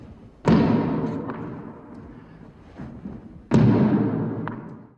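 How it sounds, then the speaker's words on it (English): A ball banged against a wall: two heavy thuds a few seconds apart, each a sharp impact that rings out briefly, with a softer knock between them. "we see Jack banging the ball against the wall"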